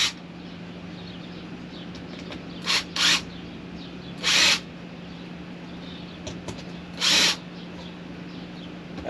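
A power drill undoes two screws on an old RV plate, giving three or four short, loud whirring bursts with pauses between them over a steady low hum.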